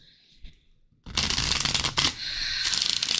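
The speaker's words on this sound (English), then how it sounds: "We're going to shuffle quite a bit here." Tarot cards are shuffled by hand: a few soft taps and a quiet pause, then a loud, close riffling burst that runs on as a continuous papery flutter, with no talk.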